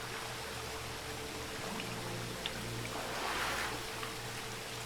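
Underwater ambience while swimming in the Witcher 3 video game, a muffled steady wash with low hums and soft bubbling, some faint clicks and a gentle swell midway, with no talking.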